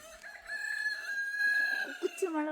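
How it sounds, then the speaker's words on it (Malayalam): A rooster crowing at a house, one long drawn-out crow heard fairly close and clear, ending with a few short clucking notes. "പിന്നെ ആ മത്സരിച്ച് കൂവലൊക്കെയാണ് പരിപാടി"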